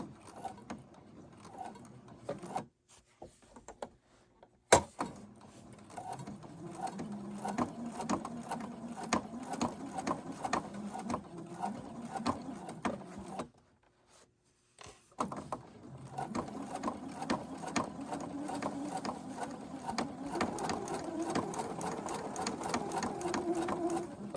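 A sewing machine stitches a pant hem in bursts, running steadily with short pauses where the stitching stops and starts again, close and fairly loud throughout.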